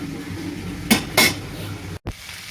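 A spoon stirring a small-fish curry with onion stalks in a pot gives two close metallic clanks and scrapes against the pot, followed by a brief lid knock over a steady background hiss.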